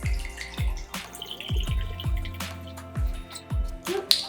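100 proof vodka poured for homemade vanilla extract gives a close series of glugging, dripping liquid pulses, roughly a dozen in a loose irregular rhythm, each with a deep plopping onset.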